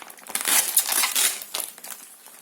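An unneeded plastic bag is pulled off and removed from a parcel holding a newly delivered phone, giving close, loud bursts of crinkling and rustling plastic that rise and fall over a couple of seconds.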